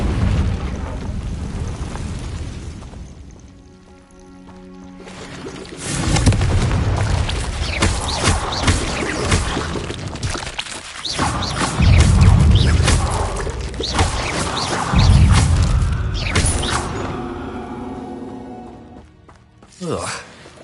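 Confringo blasting curse detonations in Hogwarts Legacy, a series of loud booming blasts with crashing debris, mixed with speech and game sounds, the biggest bursts arriving in the middle and later stretch.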